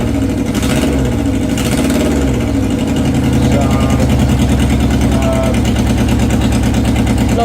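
A Suzuki Katana motorcycle engine with a weak third cylinder idles unevenly with a lumpy, uneven chug, close and loud, while a voice is heard briefly near the start.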